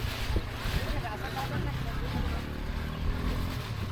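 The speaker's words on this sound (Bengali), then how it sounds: "আমাদের নৌকা ছুটে চলেছে" A boat moves across the water on a trip to Patul, Natore, with a steady churning wash and wind rumble and voices faintly mixed in.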